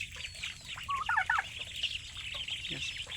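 Turkeys and chickens on a farm on a rainy day cluck, gobble and squawk in an overlapping, fairly close chorus, steady throughout with no talking.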